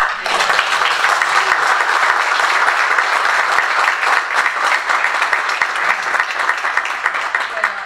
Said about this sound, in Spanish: Un aplauso para Roland